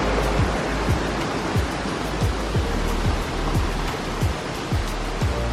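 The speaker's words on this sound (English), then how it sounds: "If the streams we're crossing are this powerful, I can only imagine what the waterfall is going to be like." A powerful stream rushes across a hiking trail, its loud, continuous roar of water close by and filling the scene, with soft, regular thuds running underneath.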